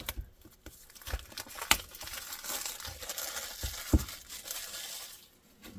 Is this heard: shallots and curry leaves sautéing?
no